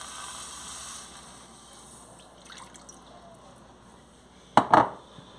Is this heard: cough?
no